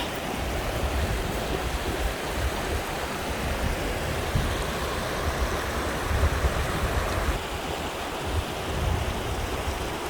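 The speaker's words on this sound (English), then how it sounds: "Lovely, the river." River flowing near a mining-era hut in the woods, a steady broadband rush of moving water, loud and close, continuous and alone without voices.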